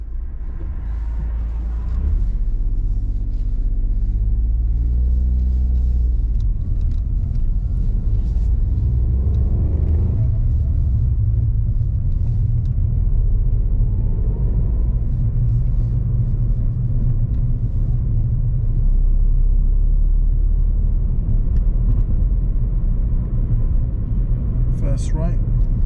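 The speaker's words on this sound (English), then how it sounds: "Why are you making the car go faster?" A car accelerating on a suburban road on a driving-test route, its engine rumble steady and close throughout, with people talking inside the car over it.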